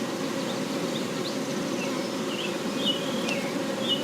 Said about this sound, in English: I'm handling the bees right now gently.